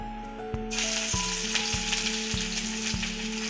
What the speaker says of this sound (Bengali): আদা রসুনটাকে একটু ভালো করে ভেজে নিতে হবে